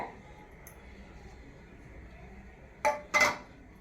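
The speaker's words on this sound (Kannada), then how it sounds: "ಸ್ಟವ್ ಹಚ್ಕೊಂಡಿದ್ದೀನಿ ಬಂಡಿ ಇಡ್ತೀನಿ ಒಲೆ ಮೇಲೆ" A cooking pan set onto a lit kitchen stove lands with two quick metallic clunks near the end, after a stretch of quiet room hum.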